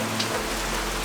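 Steady rain falls continuously on surfaces at a building site under roof and structural repair work, a dense, even hiss with no voices.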